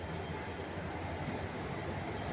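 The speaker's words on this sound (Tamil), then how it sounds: "இந்த ட்ரெயின் தான் நண்பா நம்பி சிலம்பு எக்ஸ்பிரஸ் செங்கோட்டையிலேருந்து தாம்பரம் வரைக்கும் போகுது." The Silambu Express, running from Sengottai to Tambaram, rumbles steadily through a station, a continuous low, loud rolling roar of wheels on rail with faint clatter and no clear rise or fall.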